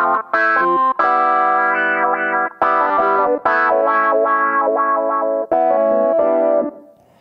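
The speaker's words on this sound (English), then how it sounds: "I'm using the mod wheel to trigger the wah-wah here." A synthesizer patch swept with a wah-wah effect from the mod wheel plays sustained, buzzy chords and note runs, distorted and chorused, in several phrases with short breaks before fading out, close and alone.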